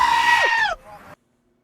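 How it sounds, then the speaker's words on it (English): A goat lets out a loud, human-like scream that rises and then bends downward before breaking off, followed by a weaker trailing bleat and sudden silence. "Screaming goat."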